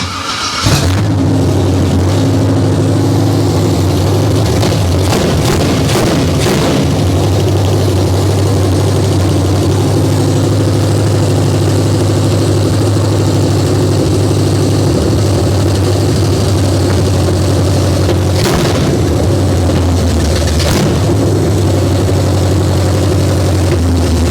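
An abandoned 1968 Chevrolet Camaro, fitted with junk parts, runs just after its first start: a loud, steady, rumbling V8-style idle with rough low-frequency throb and occasional brief revs, close up with no talking.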